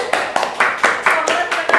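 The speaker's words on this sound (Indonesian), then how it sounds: "Tepuk tangan dulu dong." An audience at a university faculty of economics event claps in quick, regular bursts, with voices cheering along over the clapping.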